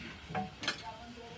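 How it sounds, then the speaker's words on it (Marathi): Fasting vadas frying in oil on a medium flame, a soft steady sizzle with a couple of brief stirring scrapes, close and quiet, no talking. "तरी पण मी मिडियम फ्लेमवर थोडंसं अजून तळून घेत आहे"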